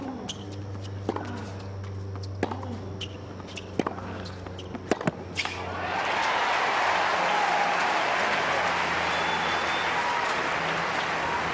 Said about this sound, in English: the fans will be going home with sore hands tonight, so much have they been applauding